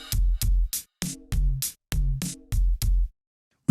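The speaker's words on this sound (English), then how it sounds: "Next, I'm going to do the classic smiley face or hammock shaped EQ" A drum loop treated with parallel compression and a scooped-mid smiley-face EQ plays alone, punchy kicks and snappy hits in a steady rhythm of separate strikes with gaps of silence between them, loud and close.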